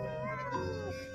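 A cat gives one drawn-out, wavering meow in a Thai TV drama, close and clear over a steady background hum.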